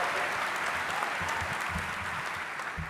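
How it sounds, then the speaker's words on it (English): A large audience claps steadily at a Basketball Hall of Fame enshrinement speech, a broad, continuous roar of applause filling the hall, with a faint voice low underneath. "That's right, clap it up."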